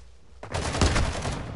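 Video game gunfire bursts in after a quiet start, a rapid run of automatic shots rattling on for about a second, fairly loud and close, with no talking.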